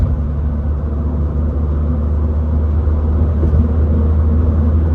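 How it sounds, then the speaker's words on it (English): A 1997 Acura CL driving on the road, heard from inside as a steady low engine and road rumble with no changes in pace, fairly loud and continuous. "it drives totally straight, shifts super smooth, accelerates well"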